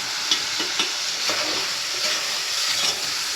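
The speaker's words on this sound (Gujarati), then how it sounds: "હવે આમાં મરચું નાખવું આપણે. એને હલાવી કાઢવું હવે આપણે." Chili sizzles in hot oil as it is stirred into a tempering for vaghareli khichdi. A steady bright frying hiss runs throughout, with a few close scraping stirs and no voices.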